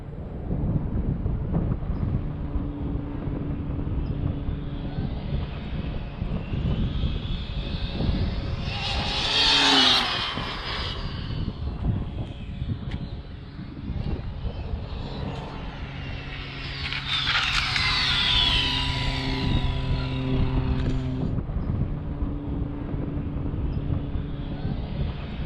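An Arrma Felony 8S RC car makes a full-throttle speed run, its motor rising to a loud high whine in two bursts, approaching and passing, with a cutout and a drop in pitch between them.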